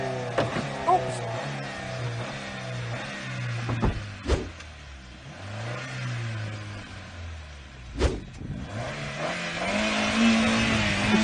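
A Honda car engine under an endurance test revs up and down repeatedly while being driven, its pitch rising and falling in sweeping waves, with a couple of sharp knocks and a building, strained roar at the end.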